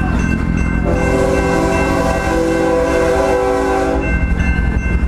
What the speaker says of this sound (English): I got another fucking train coming.